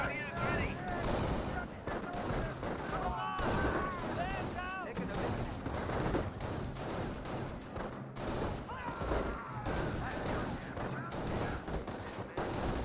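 Rifle squad and Volksgrenadier infantry gunfire in a Company of Heroes 1 battle, dense overlapping rifle and machine-gun bursts with thuds, running continuously under a steady stream of talk.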